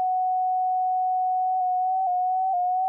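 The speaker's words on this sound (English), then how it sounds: "You can now hear how this LFO influences the frequency shifting." A frequency shifter effect with an LFO modulates a pure steady tone. A single clean whistle-like pitch holds evenly, then begins to wobble and drift slightly in the second half, with no other sound.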